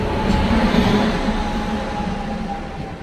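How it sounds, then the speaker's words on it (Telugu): The Vikramasimhapuri Amaravati Intercity Express rumbles into a station platform with a broad, steady roar of rolling wheels and carriages that stays loud throughout, with a faint continuous whine above it. "ఇప్పుడే మన ట్రైన్ అయితే ప్లాట్ఫామ్ మీదకి అయితే వచ్చేసింది అనమాట"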